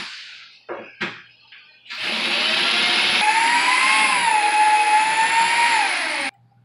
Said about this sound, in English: I make the hole here, and it was hard because it's like concrete